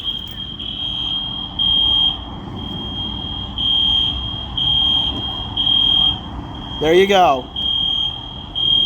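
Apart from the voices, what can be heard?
fire alarm going off in an abandoned school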